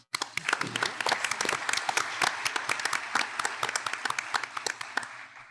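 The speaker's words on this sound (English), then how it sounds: "So please give Hop a round of applause" A conference audience at an economic summit in Orange County applauds, a dense, steady round of many hands clapping from a distance that holds for several seconds and thins toward the end.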